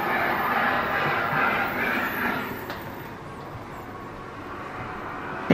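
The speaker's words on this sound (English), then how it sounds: "it's so different being on train" Steady low rumble and broadband hiss inside a moving British passenger train carriage, continuous and fairly loud with a brief click near the end.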